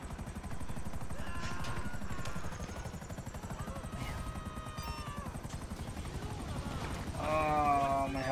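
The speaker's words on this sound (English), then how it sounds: "Oh, my helicopter's about to crap out here." A helicopter in the video game Grand Theft Auto V with its engine failing, sputtering, giving a loud, steady rotor drone throughout that swells near the end, mixed with game sound effects.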